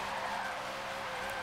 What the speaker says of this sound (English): It kind of feels like I'm drifting a normal car